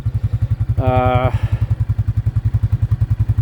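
A Huskee 20-ton log splitter's small engine chugs at a steady rhythmic idle close by, with a short voice heard briefly over it early on.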